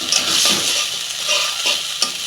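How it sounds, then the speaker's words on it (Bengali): Shrimp sauté with spices in a hot pan on a gas flame, giving a steady oily sizzle with occasional scraping strokes of a spoon against the pan, close and continuous. "চিংড়ি মাছটা আমি ভাজবো না, মশলার সঙ্গে কষাবো।"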